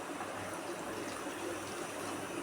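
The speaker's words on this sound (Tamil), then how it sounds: "கொஞ்சம் தண்ணி ஊற்றி" Continuous splashing and trickling of water being poured into a cooking pan of thick curry, a steady close rush with no pauses.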